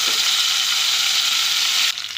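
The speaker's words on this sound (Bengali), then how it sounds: "মাছগুলো দিয়ে দিয়েছি, আর এখন ভালো করে ভেজে নেব" Fish frying in hot mustard oil in a kadai, making a loud, dense, continuous sizzle close up that eases slightly at the very end.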